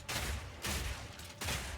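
Crossbow flashbang grenade in the Path of Exile video game, three quick booming blasts in a row, loud and close with no talk.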